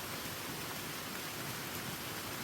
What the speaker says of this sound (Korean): 주말 농장에 비가 하염없이 내립니다.